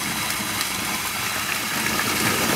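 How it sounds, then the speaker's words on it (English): Water gushes steadily from a pump hose after a leak, a broad, continuous hissing rush at moderate level with no voices. "there's water coming out of there at a pretty good clip"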